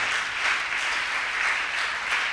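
A church congregation applauds loudly and steadily, dense sustained clapping filling the whole moment with no voices above it.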